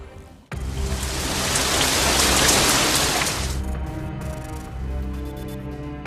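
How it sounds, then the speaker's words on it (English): Heavy monsoon rain in Northeast India in mid-June 2022 starts abruptly as a dense, loud roar of drops, then eases to a softer steady patter under background music tones. "A season of monsoon rains caused widespread flooding and landslides."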